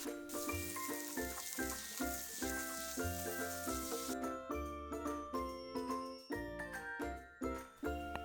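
Potato and capsicum cubes fry in oil in an open pan, a steady bright sizzle running throughout with light metallic tinkles and clinks of stirring scattered over it; no one speaks.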